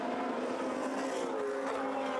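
Historic Formula One race cars on a formation lap at a Masters Historic race, a steady sustained engine drone with a rising tonal whine, continuous and moderately distant, no talk over it.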